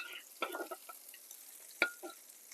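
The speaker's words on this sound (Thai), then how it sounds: "ใส่พริกขี้หนูกับกระเทียมที่เราตำไว้ลงไปผัดให้หอมก่อนนะครับ" Pounded bird's eye chilies and garlic stir-fried in a pan for a dry spicy stir-fry: faint scraping stirs and a soft sizzle come in short bursts, with one sharper clack near the end, and no talk.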